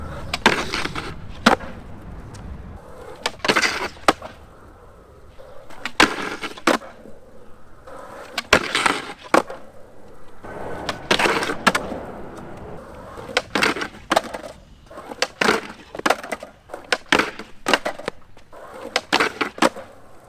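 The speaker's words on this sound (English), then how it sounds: "this is like a piece of hardened tool steel scraping against this smooth concrete ledge" A skateboard's suspension truck base plate grinding across a smooth concrete ledge, hard metal scraping concrete in repeated rough bursts between rolling wheel noise, close and loud with no talking.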